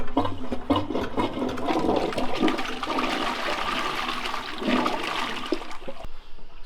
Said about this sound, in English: hear toilets being flushed and toilets being filled